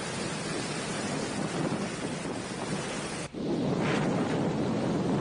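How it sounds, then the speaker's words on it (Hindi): Strong winds from Cyclone Nisarga roar along the coast near Mumbai and Uran as a loud, steady rush of broadband noise with a brief dip partway through, then gusting on, with no voices. "तेज रफ्तार में बहती हवा और हवा का शोर साफ तौर पर आप देख पा रहे हैं,"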